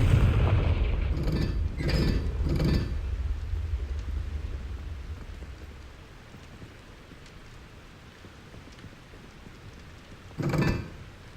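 Hogwarts Legacy's Confringo fire-blast spell bursts in a few heavy, booming blasts at the start, rumbling off into a low fading tail, then one more sharp burst near the end.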